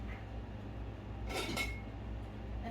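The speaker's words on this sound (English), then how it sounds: "we're going to get in here and we're going to get the dishes put away" Clean dishes and cutlery are put away in a home kitchen, giving a brief soft clink of utensils and plates in the middle of a quiet background hum.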